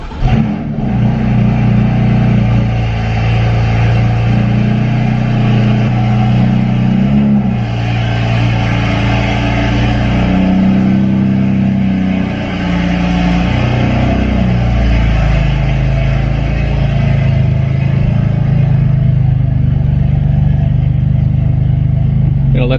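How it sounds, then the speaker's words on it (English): A BMW F80 M3 with an Active Autowerke catless single mid pipe exhaust warms up at a steady, loud, deep idle rumble that holds close and constant throughout, with slight swells in pitch along the way. "We'll get the car warmed up and then we'll open her up."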